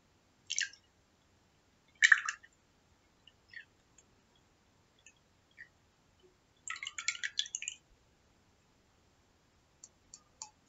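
Water drips and splashes in short scattered bursts, a few brief drops and one longer pouring splash, close and clear over near silence.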